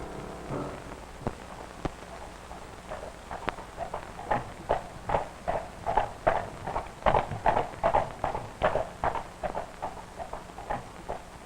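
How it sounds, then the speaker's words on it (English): A horse walks along pulling a milk wagon in an old film, its hooves giving a steady clip-clop that grows from sparse knocks to a regular, fairly close rhythm. "Whoa there, Mr. Horse."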